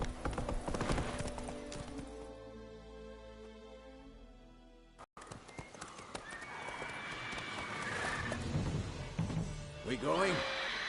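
Roach, the horse in The Witcher 3, trots along with steady clip-clopping hooves, loud and close, broken by a brief cut midway, with a whinny and rising ambient game noise toward the end.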